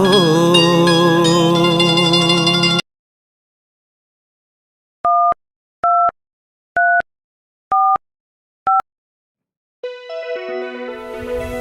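A telephone rings in five short, evenly spaced electronic trills with silence between them, clear and alone after a burst of music ends, before more music returns.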